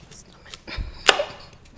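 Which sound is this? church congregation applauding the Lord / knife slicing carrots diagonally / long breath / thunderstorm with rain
knife slicing carrots diagonally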